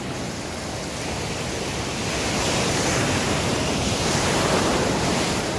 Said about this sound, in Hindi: और समुद्र तो ऐसे ही लेयर बनाता रहेगा, वेव्स आती रहेगी